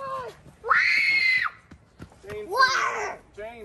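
A child screams at Halloween to scare a ghost, two long shrill shrieks close by, with other children's voices and short talk around them.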